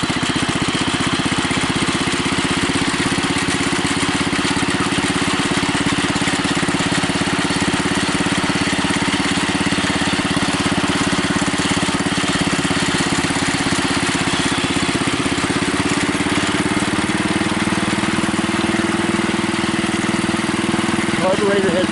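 A Bolens Husky 600 garden tractor's small engine runs steadily in third gear, a constant close drone with little change, and a person speaks briefly over it.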